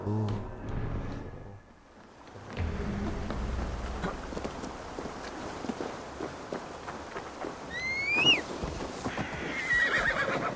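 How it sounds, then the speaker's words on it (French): A horse in Assassin's Creed Valhalla whinnies shrilly near the end, over steady hoof clip-clops and a soft hiss like falling rain that runs throughout. "Il y a la cheval quand même."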